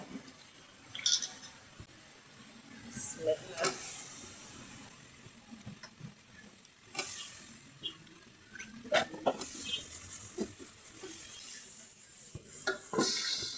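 Vegetables drop into a pan of cooked-down spices while cooking a singhi fish curry with flat beans, potato and tomato: an uneven hiss of sizzling and steam with scraping, stirring and clattering cookware, fairly quiet.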